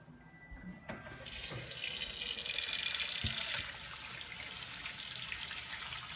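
Cold water from a kitchen tap runs into a pot of potatoes, starting with a few drips and clinks, then becoming a steady, loud rush that holds for several seconds with no talking.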